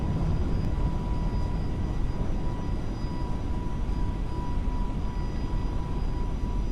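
Steady, loud jet engine roar of an FSLabs A321neo airliner in Flight Simulator 2024 during its takeoff roll and rotation, a continuous broadband rumble with a faint tonal whine, no talk over it.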